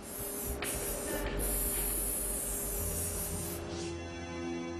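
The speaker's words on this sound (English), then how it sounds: "Up to 5 layers of paint are applied." Paint spray gun hissing as a worker hand-sprays Lexus LFA sports car panels, a loud steady close hiss with a few brief breaks in the flow.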